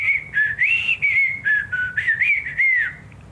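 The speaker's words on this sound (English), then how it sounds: "Can you whistle?" A person whistles a wavering, melodic tune in short phrases, close and clear, with no talking.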